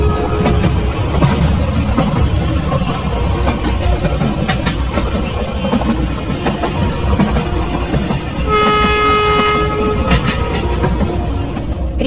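A train rumbles along steadily with clattering wheels, and partway through a loud horn toots for about a second and a half over the running noise.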